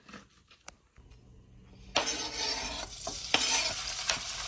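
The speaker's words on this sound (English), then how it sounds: "We start by browning this pork meat." Pork meat browning in a hot pan: a near-silent start with a few light clicks, then a loud, steady sizzle that bursts in partway through and keeps going with crackling spikes.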